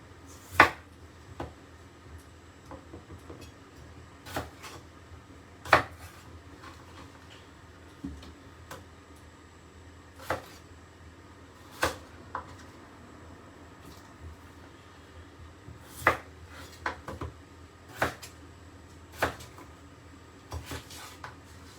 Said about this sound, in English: cut them on a diagonal on a 45-degree angle, and then you'll be left with wedge shaped potatoes